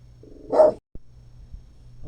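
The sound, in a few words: dogs barking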